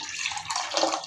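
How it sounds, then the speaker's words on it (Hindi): Two cups of water poured into a cooking pan: a short, close splashing pour lasting about a second, with no talking. "इस पैन में आप ऐड कर देंगे 2 कप पानी"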